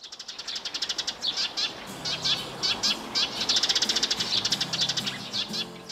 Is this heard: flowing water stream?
no